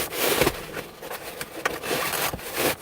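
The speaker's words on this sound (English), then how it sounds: "to put the headrest back, you just push it into the holes and let it clip in place" Plastic-and-metal rubbing and scraping as a truck seat headrest is pushed down into its holes and clipped into place on a Ford F150 or Super Duty seat fitted with a snug cover, with several close, scuffing pushes.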